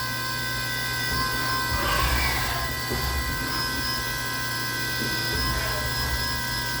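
A CNC machine running a ball nose end mill to cut locating indents into a fixture, a steady high mechanical whine with sustained tonal hum and a few brief louder cutting bursts.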